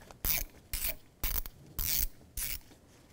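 A ratchet works a T25 Torx mounting bolt on a rubber mount in a 2001–2007 Volvo V70, giving five crisp, evenly spaced bursts of clicking close by, with no voices.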